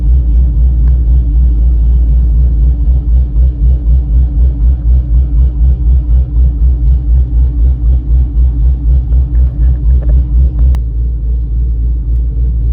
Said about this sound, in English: Car's running, it's warmed up